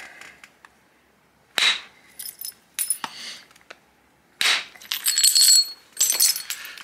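Flint is struck in flintknapping to drive flakes off the stone, giving several sharp, bright, glassy clinks and cracks close by, spaced irregularly with short quiet gaps between.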